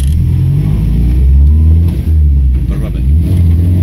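A car engine roars loudly and close as it revs hard, pulling away in first gear at full throttle with a deep, sustained droning growl.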